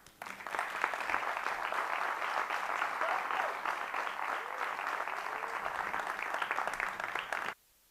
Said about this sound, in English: So please help me welcome them with a big round of applause.